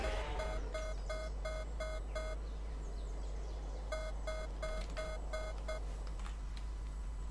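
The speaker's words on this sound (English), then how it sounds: "every single time you hear that beep sound, they will shoot me down" Enemy warning beeps in the video game Palworld, two bursts of rapid, evenly spaced high electronic beeps separated by a short pause, fairly faint over a constant low hum, with no speech.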